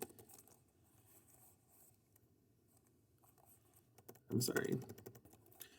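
Typing on a computer keyboard while making a list for a poetry response, a soft patter of keystrokes under room noise that swells into a louder flurry of clicks near the end.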